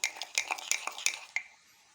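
A spoon beating instant coffee mixture in a cup for cappuccino, a quick run of bright clinking strokes against the rim, close and rhythmic, ending abruptly with no talk.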